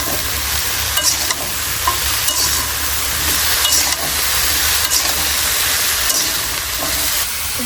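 Cauliflower and potato with salt and turmeric sizzle steadily in a pan while a spoon stirs them, with soft scraping strokes recurring every second or so over the constant frying hiss.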